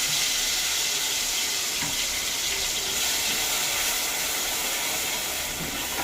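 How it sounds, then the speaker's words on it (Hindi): Tomatoes, green chilli and ginger paste tipped into hot oil with crackled cumin seeds, giving a steady, broad sizzling hiss close by that holds evenly throughout without talk. "मैं इसमें ऐड कर दूंगी टमाटर, हरी मिर्च और अदरक का पेस्ट"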